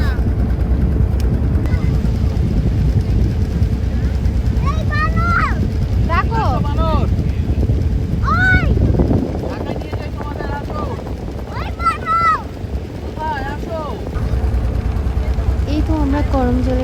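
A boat runs across open water with a steady low engine rumble and wind buffeting the microphone, while people talk and chatter in the background throughout.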